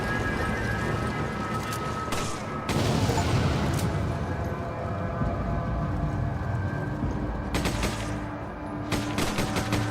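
A gas tank explosion in the video game Resident Evil 5 sets off dense, loud rumbling blasts and crackling gunfire with sharp bursts, under game music.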